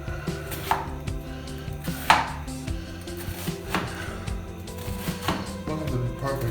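A knife chops onions on a cutting board while cooking, sharp uneven thumps repeating close by over a low background of sizzling and clatter, with no talk.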